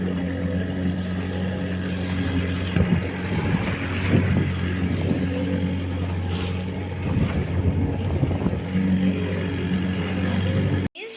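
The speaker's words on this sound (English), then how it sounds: "I'm driving the boat." Small fishing boat underway on the sea off Malta: a steady low motor drone with a tonal hum, water rushing against the hull and wind buffeting the microphone, continuous for about eleven seconds before cutting off.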